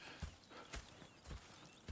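Horse hooves clip-clop in Red Dead Redemption: four evenly spaced, soft hoofbeats at a relaxed walking pace, faint and close, with no talk.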